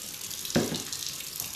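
Hot water runs from a kitchen tap into a sink used for washing potatoes. A short splash starts the flow, then a steady hiss continues, close and moderately loud.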